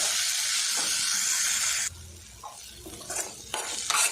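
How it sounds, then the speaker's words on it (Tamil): Tomatoes fry in a pan for an egg roast, with steady loud sizzling and hiss that drops partway through, followed by scraping stirs and a few clinks of a utensil against the pan. "அது கூட 2 தக்காளி பழம், தக்காளி பழம் பார்த்தீங்கன்னா நல்லா சுண்டி வர அளவுக்கு நல்லா ஃப்ரை பண்ணிக்கலாம்."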